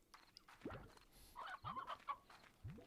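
Hens in the survival game Valheim give a few short clucks and squawks, spaced out over a quiet farmyard background with no talk.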